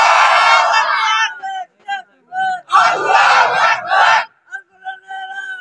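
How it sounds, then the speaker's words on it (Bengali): A crowd at an Islamic sermon answering with a takbir chant, a loud massed roar of voices in two bursts separated by short gaps, with quieter voices in between. "তাকবীর হবে।"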